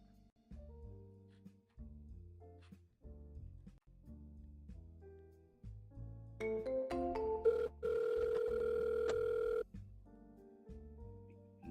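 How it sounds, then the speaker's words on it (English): Outgoing telephone call ringing: repeated rhythmic ring tones in short bursts, then a denser electronic tone sequence and a long sustained tone before the ringing pattern resumes, clear and fairly quiet. "Trying to call Fred."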